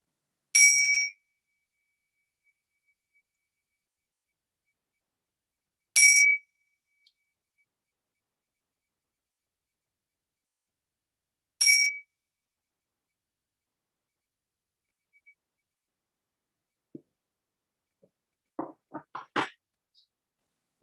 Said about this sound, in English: So, okay, ringing the bells.